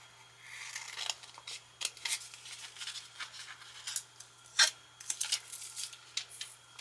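Scissors snip and trim a fresh piece of transfer tape for Cricut vinyl labels, with a run of short, close cutting and rustling sounds and one sharper snip near the end, no voices.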